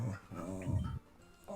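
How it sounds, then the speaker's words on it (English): A pet dog growls close by in a low, rumbling snarl that breaks into a short whimpering yip, then trails off into quiet. "To anyone that sees this, that's my dog."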